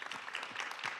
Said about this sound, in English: Just give a big round of applause to our apprentices that you see out on the cameras